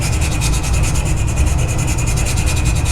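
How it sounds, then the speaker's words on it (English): Sandpaper rubs against a resin pen blank spinning on a lathe, a close continuous rasping hiss with a fast regular pulse over the steady hum of the machine. "I'm just going to run my sandpaper back and forth across the blank while"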